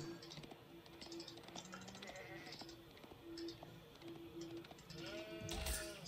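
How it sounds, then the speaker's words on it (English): Sheep bleating in the real-time strategy game Age of Empires 4, a few distinct bleats rising over steady game background sounds, with a sharper louder cry near the end. "2 sheep here."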